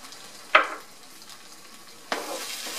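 A spoon scrapes twice through Spanish rice in a pan, each stroke a brief, bright swish about a second and a half apart. A soft, steady sizzle runs underneath.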